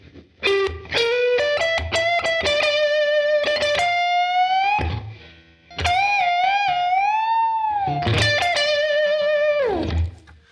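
An electric guitar plays a slow blues lick, with bent, sustained notes and a gritty distorted tone, two phrases separated by a short pause.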